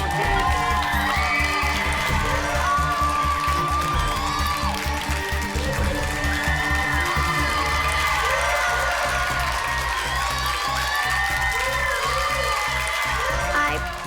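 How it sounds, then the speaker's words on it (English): An audience on the balcony cheers and whoops at the MasterChef Australia Junior finale, a loud sustained crowd roar with children's shouts and clapping, with some talk mixed in. "Everyone on the balcony starts to cheer"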